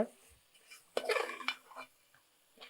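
A spoon scrapes and clinks against a pan while coriander and turmeric powder are stirred into a masala for Punjabi mutton biryani, a few quiet metallic knocks and one louder scraping burst.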